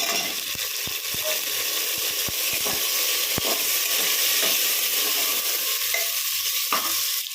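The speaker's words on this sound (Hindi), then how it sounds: "आलू को भी हम गोल्डन ब्राउन होने तक भूनेंगे।" Chopped potatoes fry on high flame in a pan with onions already gone golden brown, giving a steady close sizzle with the occasional scrape or tap of a stirring spoon and no voices.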